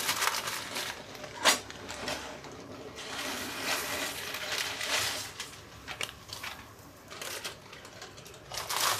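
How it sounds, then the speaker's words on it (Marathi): Dry crinkly crushing and crackling of brittle Maggi instant noodles crushed by hand, close up, in uneven bursts with short pauses between squeezes. "इथं मी नूडल्सचा चुरा करून घेतलेला आहे मॅगीचा चुरा करते"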